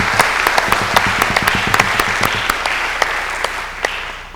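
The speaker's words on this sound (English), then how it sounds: "So let's give them a big round of applause." An audience at a talk on science and Buddhism claps in a dense, loud burst of applause, with sharp individual claps standing out and tapering slightly toward the end.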